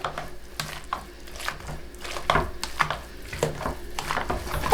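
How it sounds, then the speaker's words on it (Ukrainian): Boiled potatoes are mashed in a pot, with a run of soft squelching presses and thuds that come close together in an uneven rhythm and are heard up close with nobody talking. "Спочатку добре переминаю саму картоплю."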